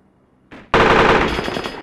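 A sudden long burst of machine-gun fire in the Arma wargame, loud and close, following a short preceding blast and quiet lead-in.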